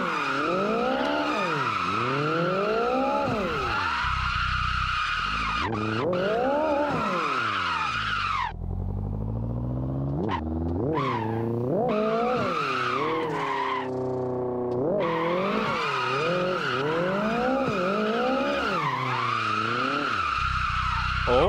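Nissan Silvia S15 drifting in the Assetto Corsa racing game, a continuous loud tire squeal with a revving engine rising and falling through gear changes, heard close and alone.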